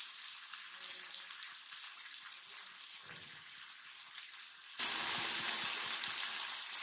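Masala sizzles steadily in a pan after turmeric is added while cooking soya chaap, a soft continuous crackle that swells louder and brighter partway through.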